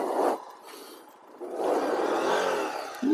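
A Honda Tornado motorcycle engine revs loudly as the rider spins it into a skid turn, rising and falling over about three seconds, with a brief dip in the middle before surging again.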